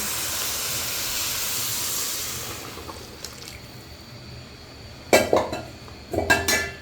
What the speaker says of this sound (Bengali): এক কেজি চাউল আছে আমি দুই কেজি পানি দিয়ে দিচ্ছি